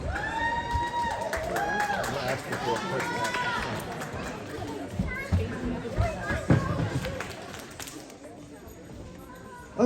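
Crowd cheering and chattering fills a gymnastics meet arena, a continuous roar with rising shouts and whistles, close and loud, with voices calling out over the din throughout.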